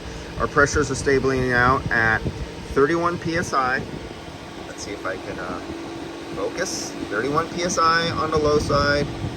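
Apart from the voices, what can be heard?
cooling fan roaring on a 2023 Toyota RAV4 during A/C test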